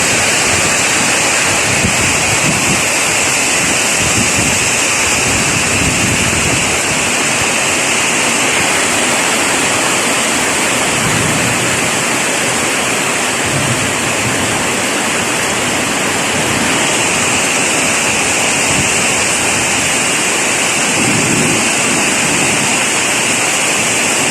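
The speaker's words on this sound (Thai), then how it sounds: "ตอนที่ฝนตกนะครับ เรื่องจากหลังคารั่วนะครับ" Heavy rain and strong wind batter a leaking roof of a temple in Surin, Thailand, a loud, steady broadband roar that continues without a break, with gusty surges underneath.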